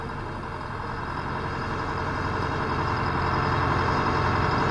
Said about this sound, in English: Put the roller in motion.